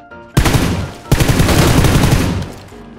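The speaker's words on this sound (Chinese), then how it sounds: "谁那个大枪枪一直啪啪啪啊？" Heavy automatic gunfire from a big gun in PUBG Lite, loud rapid bursts starting abruptly, pausing briefly, then resuming in a sustained dense volley before trailing off.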